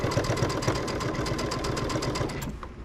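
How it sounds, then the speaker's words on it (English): A sewing machine stitches a few quick back stitches on a baby quilt's binding, a rapid, even mechanical chatter that runs steadily and then stops near the end, with no talking. "I will do a couple stitch back stitch here"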